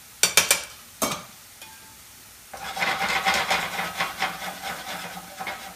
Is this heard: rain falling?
no